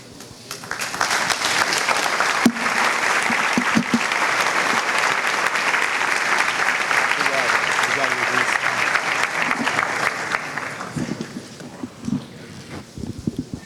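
A large audience at a pastors' and leaders' conference applauds in a dense, sustained burst of clapping that holds for about ten seconds, then tapers off into scattered claps with a few voices.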